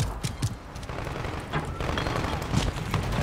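Rapid gunfire crackles in Modern Warfare 3 combat, with dense bursts of shots and booming impacts spread over the moment, fairly close and loud, with game background noise underneath.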